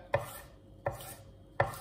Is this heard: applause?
no